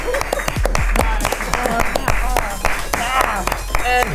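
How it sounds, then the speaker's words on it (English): Several people clap in a small studio-style room, rapid uneven claps mixed with talking and excited voices throughout. "we clap on the show."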